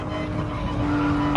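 A race car in Gran Turismo Sport braking into a corner at Spa: a steady engine drone with a faint tire squeal running through, close and continuous for about a second and a half.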